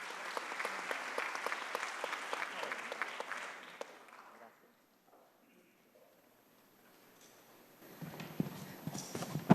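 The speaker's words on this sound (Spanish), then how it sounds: "un fuerte voto de aplausos para ella" Audience at a government congress panel applauds a speaker, a dense burst of clapping that fades to near silence, followed by someone speaking close to the microphone.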